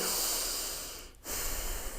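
A long, breathy exhale and then a quick inhale, heard close and steady over a faint background hiss.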